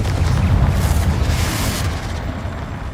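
A Confringo spell explosion in Hogwarts Legacy, a loud booming blast with a rumbling low end that fades over a few seconds.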